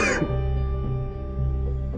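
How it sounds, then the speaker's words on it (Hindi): A single hoarse cough from a man, close and loud, followed by a low lingering throat rumble. "बहुत ज्यादा खांसी हो रही है, डॉक्टर को दिखाओ।"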